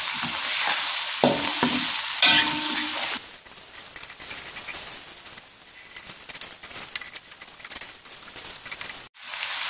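Galangal, lemongrass, bay leaves and lime leaves sauté in a pan, with a loud, dense sizzle and stirring scrapes for about three seconds that then settle into a softer, steady crackle, ending in a brief break.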